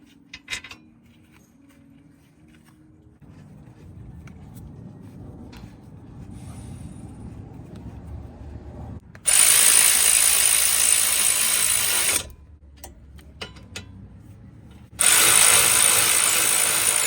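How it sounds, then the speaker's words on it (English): Bolts on a 2022 Mazda 3 brake caliper are driven in with a power tool, two loud whirring bursts separated by quieter clicks and handling noises close by. "So after tightening the bolts that had the Loctite on them"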